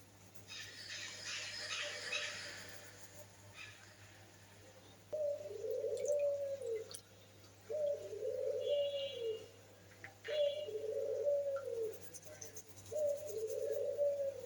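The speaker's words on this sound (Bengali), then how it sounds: "আর পিছনে ব্যাকগ্রাউন্ডে খুব সুন্দর একটা পাখির শব্দ হচ্ছে, ঘুঘু পাখির।" Outdoors, a spotted dove coos in the background in a steady repeating rhythm of about five phrases, over a constant low hum, after a stretch of faint hiss.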